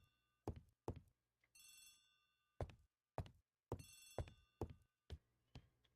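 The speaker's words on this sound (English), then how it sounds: "Poirot, the telephone." A bell-type telephone rings in two bursts within an audio drama scene, surrounded by sharp knocks and thumps of movement and handling, with no voices.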